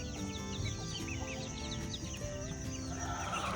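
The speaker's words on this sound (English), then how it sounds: "Good morning, chicks." Chickens and young chicks on a farm clucking and peeping in a continuous chorus, fairly close and moderately quiet, with no talking.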